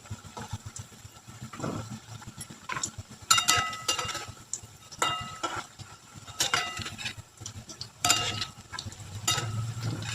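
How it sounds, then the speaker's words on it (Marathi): Aluvadi, colocasia leaf rolls, fry in a pan and are turned gently, giving a low sizzle punctuated by irregular bursts of clattering and scraping from the flipping, with no talking. "आपण आता ती पलटी मारून घेऊया हलक्या हाताने पलटी मारायची"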